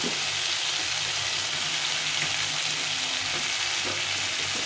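Ridge gourd frying in a pan with spices, giving off a steady, close, dense sizzle with a few soft stirring scrapes, unbroken and even from start to end.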